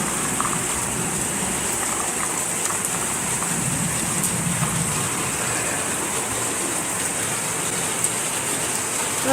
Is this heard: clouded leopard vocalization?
no